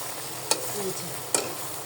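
Malabar spinach stalks stir-fried in a pan, with a constant sizzle and two sharp spatula scrapes about a second apart.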